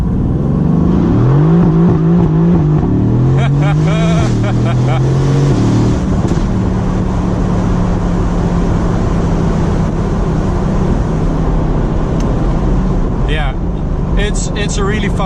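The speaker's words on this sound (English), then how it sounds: "you can really go through those gears, brake, shift down, go for it, brake, shift down, hear those crackles" A Mercedes-AMG GT C engine revs hard through the gears on a wet road, pitch climbing and dropping with shifts and exhaust crackles, loud and close, while someone talks over it.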